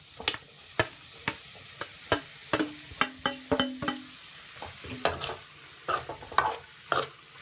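Scrambled egg and rice frying in a pan for egg rice, stirred with a spatula that scrapes and taps the pan in quick repeated strokes over a light sizzle, close and fairly loud.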